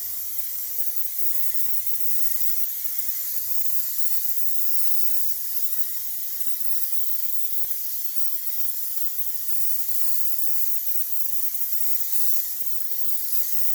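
Plasti Dip aerosol sprays onto car wheel rims in one long, unbroken, close hiss of even loudness, with no talking.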